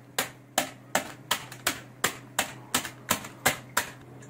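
A bag of cheese Cheetos is pounded to crush them for a pasta dish, giving a steady series of about eleven sharp, evenly spaced knocks close by, with no talking.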